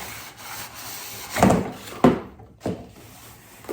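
An AutoART McLaren P1 model car slides out of its packaging box, giving a few soft rubbing, scraping swipes of cardboard or packing material at close range, with no talking.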